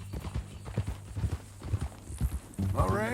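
Horse hooves clip-clopping at a steady walking rhythm in Red Dead Redemption 2, close and distinct, with a horse whinny rising near the end.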